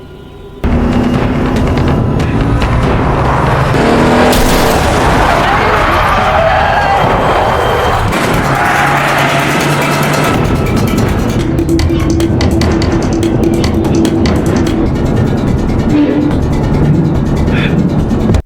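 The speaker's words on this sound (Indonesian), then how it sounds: "Dongchul pun langsung tancap gas dan terjadilah kejar-kejaran yang sangat alot" Film car chase with engines surging and accelerating, loud and dense throughout, mixed with dramatic booms and bursts; a voice speaks over part of the scene.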